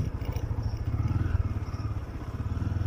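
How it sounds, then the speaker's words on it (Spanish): Motorcycle in first gear pulling away with the clutch let out and the throttle eased on very gently, a low, steady engine putter close by over about three seconds, with no talking. "estamos en primera marcha, soltamos embrague, aceleramos muy suavemente."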